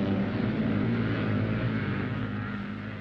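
Engines of 1960s scrambling motorcycles roar steadily as riders climb the banks of a European motocross course, a dense, continuous, loud mechanical drone without pauses.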